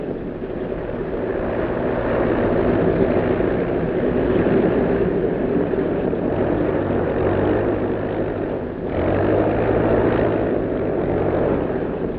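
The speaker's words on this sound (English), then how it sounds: "Trans-American plane from Miami, flight 2, just landed." Propeller airliner landing at an airport in Panama, a loud, steady engine drone and rumble filling the whole stretch, with a brief dip before the roar swells again.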